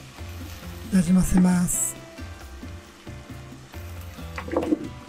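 Daikon and shimeji mushrooms stir-frying in a pan, a steady close sizzle with louder bursts as the vegetables are tossed, under a woman's calm speech.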